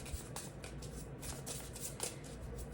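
Animal spirit oracle cards being shuffled by hand, soft close riffling with a series of quick papery swishes and taps, fairly quiet with no talk.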